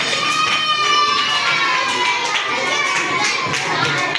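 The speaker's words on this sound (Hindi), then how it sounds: "हर्षा के लिए 1 करोड़ तालियां" Children clapping and cheering for a classmate in a group setting, a dense, continuous burst of applause mixed with excited shouts throughout.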